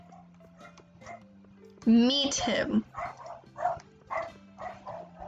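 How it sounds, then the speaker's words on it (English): A real dog barks in the room during Stardew Valley gameplay, a sudden loud yelping burst followed by a few shorter barks, with a person talking over it. "My dog's barking."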